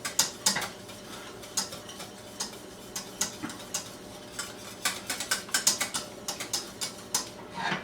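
A utensil stirring thickening gravy in a pan, making a steady run of quick scraping ticks and taps, fairly close with no talking.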